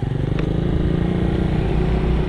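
Motorcycles pass on a rural road at dusk, a steady, loud engine drone with a low rumbling pulse that holds throughout the moment.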